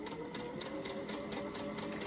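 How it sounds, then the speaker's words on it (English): A sewing machine runs a piecing stitch with a quarter-inch foot, joining patchwork pieces in a quick, even mechanical patter that stays soft and steady throughout. "I'm just going to do my 1/4-inch foot, and I just have a piecing stitch on, and I'm just going to sew these 2 together"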